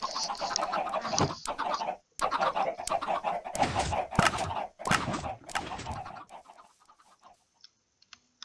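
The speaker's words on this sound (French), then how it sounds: "Une usine à poulet." Chickens cluck in a crowded chicken farm inside a video game. A dense, overlapping chorus of clucks and squawks comes in uneven bursts for about six seconds, then fades to near silence with a few faint stray notes.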